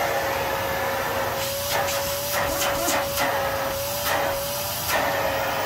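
A Kenmore vacuum cleaner runs continuously at high suction, a steady loud whine with broadband airflow hiss, swelling in brief pulses of rushing air.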